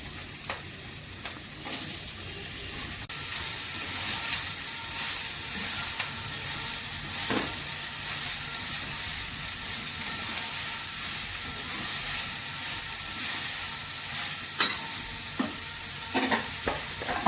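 Ash gourd with green chillies, salt, turmeric and cumin powder cooking in a hot pan, a continuous close sizzle under repeated stirring and scraping clatter, no talking.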